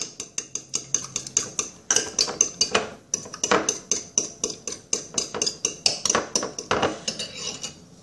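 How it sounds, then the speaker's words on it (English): Cake batter for a potato oven cake stirred in a bowl, a utensil clinking against the bowl in steady rapid strikes, close and fairly loud with no talking. "I'm gonna have to mix all the ingredients"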